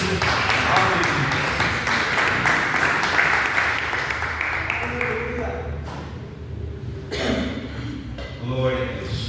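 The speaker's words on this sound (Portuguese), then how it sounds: "dando uma linda salva de palmas para Jesus" A church congregation claps in sustained applause during a worship service, dense and steady through most of the stretch, then fading as a speaking voice carries on over the last few seconds.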